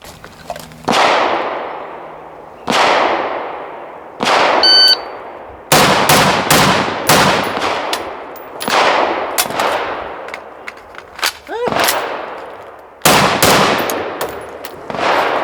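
A Steyr AUG-A3 rifle fires a series of loud, close, sharp shots with ringing decays, some in quick pairs, interrupted by metallic clicks and clanks of reloading around the middle.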